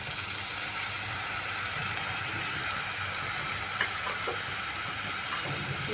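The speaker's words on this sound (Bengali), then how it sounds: "শুকনো মশলাগুলো আমি জলে গুলে রেখেছিলাম এটা দিয়ে দিচ্ছি" Dry spice paste mixed with water sizzles in a hot frying pan while squash cooks for a vegetarian curry, with a constant hissing crackle and occasional metallic scraping, close and without talk.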